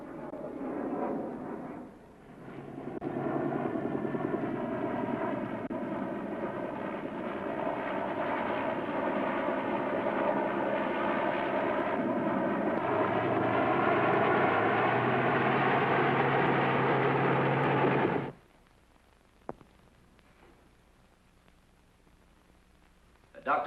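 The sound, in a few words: aircraft circling over wreckage, 1954 film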